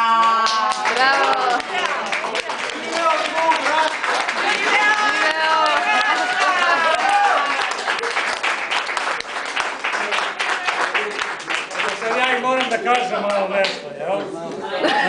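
An audience claps steadily, with cheering and shouting voices mixed in, a dense, loud wash of applause that continues for the whole stretch.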